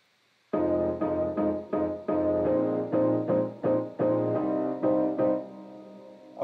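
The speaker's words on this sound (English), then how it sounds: "the piano in the verses sounds like this." A filtered piano part from a disco house remix verse plays rhythmic chords in steady repeated stabs, dulled and muffled with the brightness cut away, sounding alone for several seconds.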